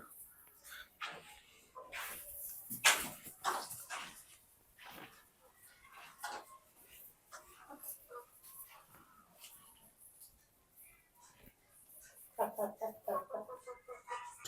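Several chickens in a poultry shed cluck and squawk in irregular bursts, some close and some farther off, with a voice talking quietly in between.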